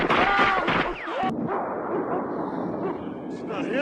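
Gunfire in a First Blood film scene: a quick burst of loud shots at the start, then a low, rumbling echo that rolls on under a faint background.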